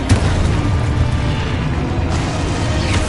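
A Confringo blasting spell explodes in a Harry Potter video game, giving a dense, rumbling boom that fills the moment, loud and sustained, with no talking over it.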